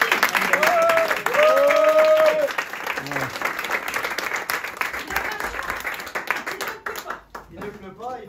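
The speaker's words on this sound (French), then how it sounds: "Bravo. On applaudit." Audience applause with scattered clapping at an improv comedy show by La Clique à Farce in a Brest bar, a loud, dense crowd wash lasting several seconds, with voices and short shouts mixed in before it thins out toward the end.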